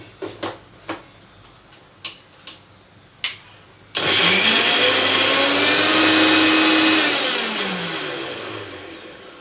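A few sharp clicks as a kitchen mixer grinder is set up, then its motor roars loudly into a high whine while grinding green chillies, garlic, cumin and curry leaves, holding steady for several seconds before slowly winding down.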